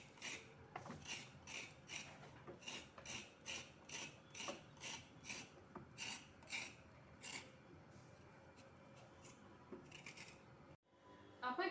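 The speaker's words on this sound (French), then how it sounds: "J'aurais donc besoin d'enlever la peau sur ma carotte avant de la faire découper." Rhythmic rasping scrapes of a peeler stripping the skin off a raw carrot in a kitchen, about a dozen quick close strokes in a steady pattern, fairly quiet, with a brief clunk near the end.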